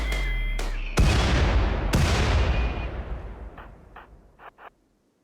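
Gunfire in the video game RimWorld: a few heavy shots ring out loud and close, each with a booming tail, followed by a handful of fainter, sharper pops near the end.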